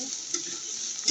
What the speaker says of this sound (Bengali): তারপর আপনার কড়াইয়ে তেল গরম হয়ে গেল, এখন আমি পেঁয়াজ কুচি দিয়ে দিলাম।